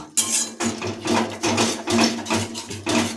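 Fish head and mixed vegetable curry being stirred slowly in a pot, a spoon scraping and knocking against the metal in about six regular strokes, close and clear without talk.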